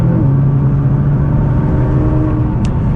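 A 2014 Nissan GT-R, a 700hp AWD turbocharged supercar in race mode, accelerates, its engine a loud, steady drone heard close from inside the cabin.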